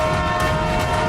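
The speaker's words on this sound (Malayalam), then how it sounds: "പത്ലു, ജനങ്ങള് കമൽപൂർ സ്റ്റേഷന്റെ പുറത്ത് വെച്ച് ട്രെയിനിന്റെ ട്രാക്ക് ബ്ലോക്ക് ചെയ്തിരിക്കുകയാണല്ലോ." A cartoon train running along the track, a loud continuous rumbling drone with steady tonal hum and faint rhythmic rail clatter, close and unbroken for about a second with no voices.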